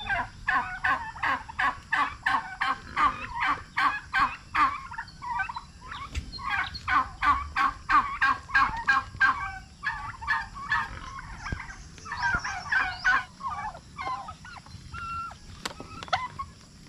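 Turkeys gobble repeatedly in quick rattling bursts, several birds calling over one another at close range with steady low background noise, no talking.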